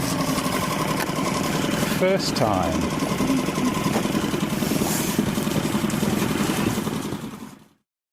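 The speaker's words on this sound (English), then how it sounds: "Just start the engine." Small outboard motor on a sailing dinghy at sea starts up and settles into a steady, rapid buzzing idle, close and loud, with a short spoken remark briefly over the engine.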